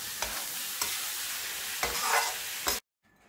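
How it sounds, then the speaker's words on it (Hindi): Black chickpeas stirred into a frying masala, a continuous sizzle broken by four spoon scrapes and knocks at regular intervals, then abrupt near silence at the end, no voices. "मसाले में ऐड करेंगे चना, अच्छे से मिक्स करेंगे"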